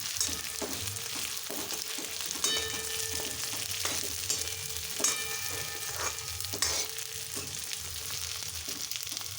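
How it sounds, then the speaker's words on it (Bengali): Chopped potatoes fry in a pan for an egg curry, giving a loud, constant sizzle near at hand, with occasional stirring scrapes and no talking. "এবার আমি একে একে আলু কুচিগুলো সব দিয়ে দেবো"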